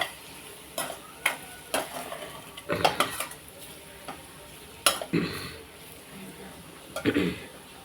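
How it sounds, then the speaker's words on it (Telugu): Coriander and curry leaves frying in a pan, with a few sharp clinks of a utensil against the pan and sizzling bursts over a low, steady crackle, close by; no talk. "కొంచెం ఇందులో కొత్తిమీర కరివేపాకు వేసుకుందాం"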